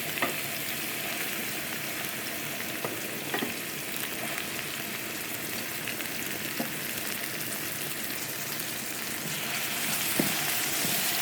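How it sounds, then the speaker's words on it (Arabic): Bell peppers frying in oil in a pan, a dense steady sizzle with occasional stirring clicks, close and continuous, no talk. "ونشحروا الفلفله حتى هي مزيان."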